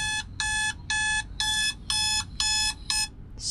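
A phone alarm goes off in a rapid series of seven loud, evenly spaced electronic beeps, close and piercing over a quiet low background rumble.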